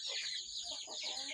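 A Brahma hen clucking softly in a short series of low, throaty notes, close by, over a steady high hiss of background noise.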